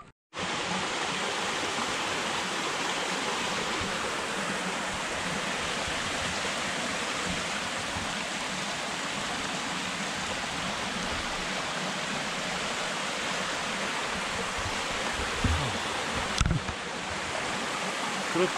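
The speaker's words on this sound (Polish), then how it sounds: "Krótki postój nad potokiem." A mountain stream in the Alps near Oberstdorf rushes steadily and loudly close by, a dense unbroken wash of flowing water with a few small knocks near the end and no voices.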